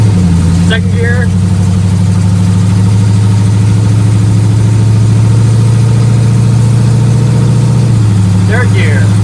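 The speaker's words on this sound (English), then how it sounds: "let's see if we got forward gears and can do a little lap" A 1972 Chevrolet Nova with a swapped LS 5.3 engine, BTR cam and built 4L60E transmission drives through its gears, a loud steady engine drone holding throughout with a brief shift near the end, heard from inside the car.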